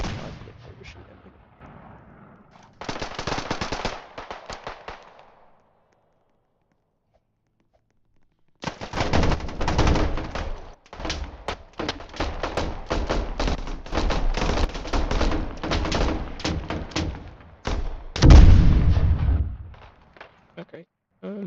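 Video game gunfire and heavy booming shots in a multiplayer shooter, dense bursts of loud blasts filling the second half after a quieter opening stretch with a brief gap of silence.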